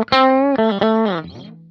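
An Epiphone Jerry Cantrell Les Paul Prophecy electric guitar played on its neck pickup rings out clearly, with a few sustained notes and short changes before fading.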